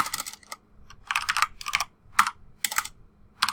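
Someone types on a computer keyboard while working in a Word document, producing bursts of quick, close clicking keystrokes separated by short pauses.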